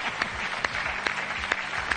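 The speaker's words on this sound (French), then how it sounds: "on vous applaudit" Studio audience on a French TV game show applauding, a steady, even clatter of many hands with a few sharper claps standing out at regular intervals, filling the room at close range.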